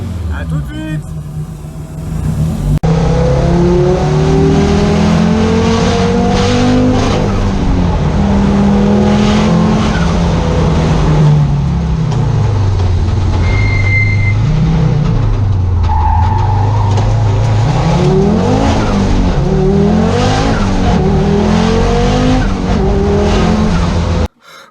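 An Audi S1 Sport Quattro Evolution 2 Group B rally car driven hard on an open road with cold brakes roars continuously, its engine note swinging up and down, with brief tire squeals, loud and close throughout.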